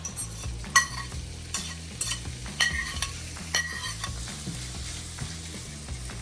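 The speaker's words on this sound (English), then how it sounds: "You want to cook this just enough so the beef is browned up" Thinly cut steak frying in butter in a pan, a steady close sizzle broken by several spatula scrapes and taps as the meat is stirred.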